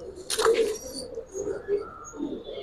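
Pigeons of an old Giribaz breed coo in a loft, a few low soft repeated coos close by with faint higher chirps.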